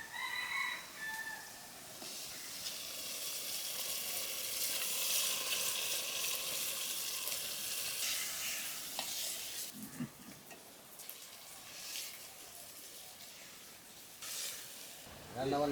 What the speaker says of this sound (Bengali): মশলা কষানো হয়েছে, হাঁসের গোস্তগুলো দিয়ে দিই।